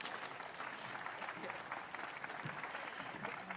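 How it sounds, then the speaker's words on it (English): An audience at a ribbon-cutting ceremony claps steadily, a fairly faint, even wash of applause heard from slightly back, continuing throughout without a break. "Give yourselves a round of applause."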